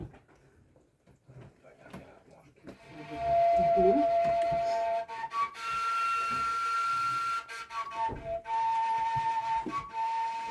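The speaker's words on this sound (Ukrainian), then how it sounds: "ми вже зробили якусь свистульку" A homemade whistle carved from elderberry wood with the bark left on is blown in a Hutsul home in Verkhovyna, giving steady, fairly loud sustained tones that shift in pitch, with talk before it starts.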